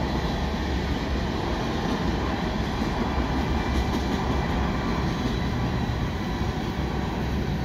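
A three-engine CN freight train rolls past a bike path in Montreal, a steady broadband rumble and clatter of cars heard from close range with no talk.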